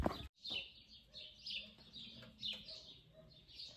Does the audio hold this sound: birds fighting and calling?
yes